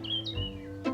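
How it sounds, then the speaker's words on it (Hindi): Faint, brief high bird chirps indoors in a home, a couple of short tweets over a low steady hum. "क्या ये चिड़ियों की चहकने की आवाज बहुत आ रही है"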